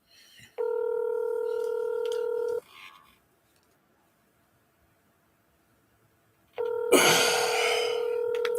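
An outgoing telephone call rings through an earpiece: two long electronic ring tones separated by several seconds of near silence, with a brief noisy rustle as the second ring begins.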